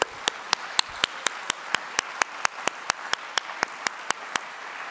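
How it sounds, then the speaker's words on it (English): Rhythmic, evenly spaced sharp claps repeat about four times per second, ringing through the room at the close of a conference on multi-stakeholder partnerships, with a low crowd murmur underneath. "I would like to ask all of you one last and loud applause for the wonderful IEA team"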